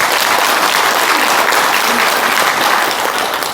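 An audience at a Korean book launch event bursts into steady, loud applause, a dense wash of many hands clapping continuously from start to finish with no one speaking over it.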